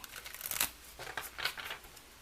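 An oracle card deck is shuffled in quick bursts, several crisp flurries of cards flicking together, close and fairly quiet, with no talking.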